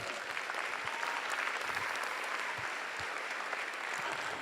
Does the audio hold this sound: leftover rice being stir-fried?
no